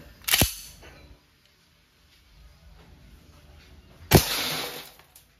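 An RWA Nighthawk Custom 1911 full-metal airsoft blowback pistol firing 6mm steel balls gives two sharp, loud cracks about four seconds apart, each followed by a brief metallic ring.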